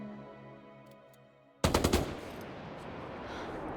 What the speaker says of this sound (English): Now I'm hearing a gunshot.